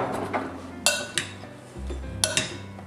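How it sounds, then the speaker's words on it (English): A spoon stirring plum salsa in a bowl, sharp clinks of metal against the bowl at irregular intervals between softer scraping and shuffling, close and fairly quiet. "give it a stir"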